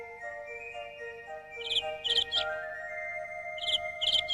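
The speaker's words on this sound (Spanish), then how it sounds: "Sí, ya sé que eres un pájaro" Chirping and tweeting from a small bird in an animated Spanish children's school show, set over a steady tonal musical background, with clusters of bright short chirps arriving in two bursts.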